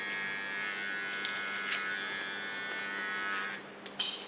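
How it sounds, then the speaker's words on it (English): Steady electric hair clipper buzz, close and continuous for a few seconds, trimming hair during a red pixie bob cut, with faint snipping or handling noises near the end and no talk. "that what I don't need, I take off with a clipper"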